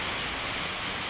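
Steady rain during Typhoon Uwan, a dense, even hiss of falling drops on surfaces that continues without pause, fairly faint and heard alone.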